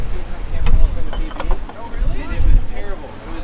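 Hand tightening an oil filter on a 2007 Dodge Sprinter: close mechanical scraping, clicks and rubbing of metal and rubber in uneven bursts, with some muffled clatter.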